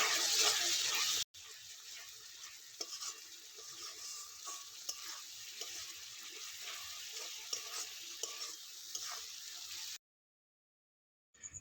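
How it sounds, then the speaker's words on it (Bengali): Ground spices, including dried chilli, Kashmiri chilli, cumin and coriander powders, are sautéed in a pan with steady sizzling and intermittent stirring scrapes, quiet and close, ending in silence. "এবার সব কিছু ভালো করে কষিয়ে নিতে হবে"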